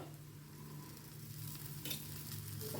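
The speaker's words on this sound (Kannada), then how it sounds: "ಇವಾಗ ಇನ್ನೊಂದು ದೋಸೆ ಹಾಕ್ತಾ ಇದ್ದೀನಿ ಮತ್ತು ಮೇಲಿಂದ ಒಂದು ಚಮಚ ತುಪ್ಪ ಹಾಕಿಬಿಟ್ಟು" A dosa cooks on a hot pan with a spoonful of ghee added on top, giving a steady, soft sizzle with light crackle throughout, fairly close and alone without talk.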